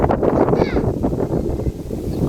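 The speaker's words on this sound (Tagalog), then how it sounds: "Lakas ng hangin eh." Strong outdoor wind buffets the microphone in loud, continuous gusty rumbles, with faint voices underneath.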